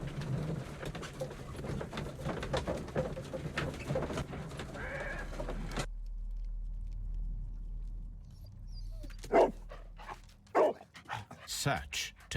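Dog sniffing and barking in a Sherlock Holmes video game, someone talking over busy game sounds with pigeon-like cooing, then a quieter stretch followed by several loud barks near the end.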